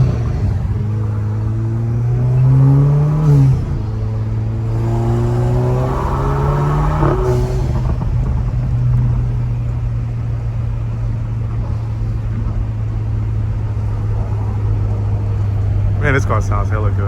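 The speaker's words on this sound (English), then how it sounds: "this car sounds hella good, bro" An Alfa Romeo car engine runs with a steady low drone and rises in a couple of revving swells near the start, heard from inside the car in a tunnel, with talking over it.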